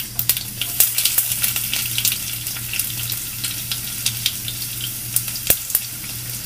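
Garlic, mustard seeds and cumin sizzle steadily in hot oil, with scattered sharp pops and crackles over a constant fry and a low hum underneath, heard close with no talking.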